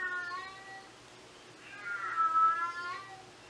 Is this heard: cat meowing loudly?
yes